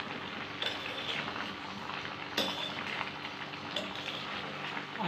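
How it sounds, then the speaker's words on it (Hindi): Mixed vegetables being stirred slowly with a spoon in a pan on the stove, giving soft scraping and occasional metallic clinks over a steady sizzling background, close up with no talk. "मैं धीरे धीरे से मिक्स करूँगी।"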